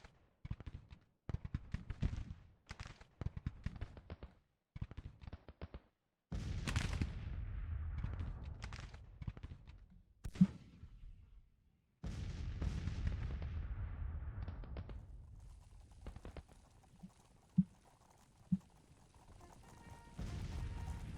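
Gunfire and artillery boom in the Civil War strategy game Grand Tactician, with volleys of sharp rifle shots in bursts and long rolling cannon blasts, some sudden louder cracks, all without voices.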